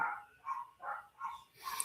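Dogs bark repeatedly at a distance, four or five muffled barks spaced about half a second apart.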